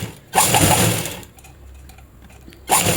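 A sewing machine with a normal presser foot runs a stitch along a cloth edge while making thread piping, a loud close mechanical whirr in two bursts separated by a short quieter pause.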